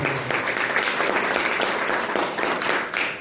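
An audience breaks into loud, sustained applause, many hands clapping densely and evenly throughout at close range with no pause.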